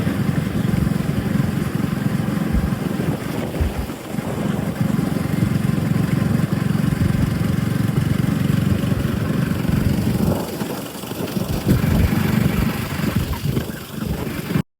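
A motorcycle engine drones steadily while riding through rural Malanada in Kollam, Kerala. The rumble is loud and close, with wind noise and brief dips as the throttle eases, and no talking.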